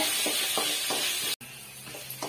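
Tomatoes and coriander sautéing with salt in a pan for chutney give a steady, close hiss of frying with faint stirring scrapes, briefly cut off partway through.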